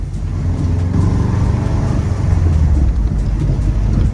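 A bugeye Subaru Impreza WRX with all-wheel drive and 225 brake horsepower accelerating hard on a test drive, a loud continuous engine roar heard from inside the car with wind noise, holding strong throughout without speech.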